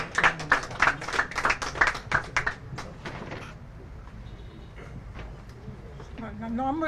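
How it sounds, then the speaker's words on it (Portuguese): An audience bursts into brisk applause at a tribute ceremony honouring a local legend. The clapping is dense and lively for about two and a half seconds, then fades into a quieter room with talk. "um aplauso no baixo."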